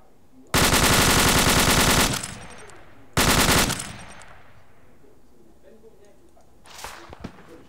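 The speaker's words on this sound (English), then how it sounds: "Right, this enemy over here is firing" Two loud, close bursts of rapid machine-gun fire in Arma 2, a long burst followed by a shorter one, each trailing off into echo, with a faint distant shot near the end.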